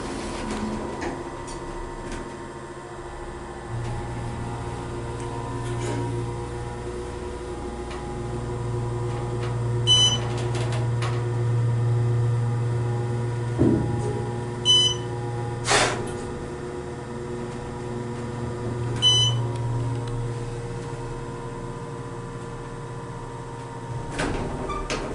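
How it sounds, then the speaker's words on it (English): An Otis Series 5 hydraulic elevator motor runs in a hotel, Candlewood Suites in Reading, Pennsylvania, giving a steady low electric hum with a faint whine, broken by occasional clicks and knocks, heard at moderate level. "Now we'll take up to 3 and listen to the motor."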